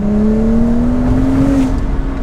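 A BMW E82 135i tuned with an exhaust, a tune and a metal charge pipe accelerates hard, its engine note rising steadily in a loud, close, continuous pull with no talk over it.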